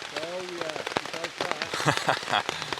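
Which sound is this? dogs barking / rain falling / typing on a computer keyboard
rain falling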